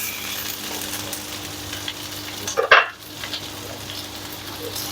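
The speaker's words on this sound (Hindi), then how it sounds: "बस हल्का सा घी में हम फ्राई करेंगे" Onions fry lightly in ghee for a white chicken karahi, giving a soft, steady sizzle with one brief clatter of a utensil in the pan midway and no talking.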